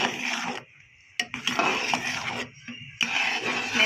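A spoon stirred quickly through mango custard in a cooking pot, giving scraping, clinking strokes in irregular bursts with short pauses between them.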